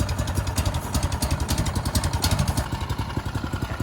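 A small boat engine starts and idles nearby with a fast, even chugging rhythm that stays steady and moderately loud.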